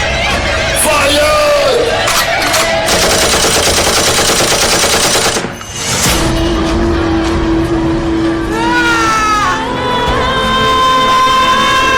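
Staged gunfire sound effect during a school annual day stage play, loud bursts of rapid machine-gun-like fire layered over dramatic music and crowd noise, with a brief pause midway before the battle sounds resume.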